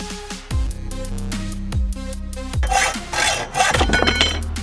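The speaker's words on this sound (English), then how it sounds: "I cut a foot off of the flat plate." Flat steel plate is cut with a rough, grinding rasp, over a musical track with a thumping beat and a melody, the harsh cutting noise growing louder and denser in the second half.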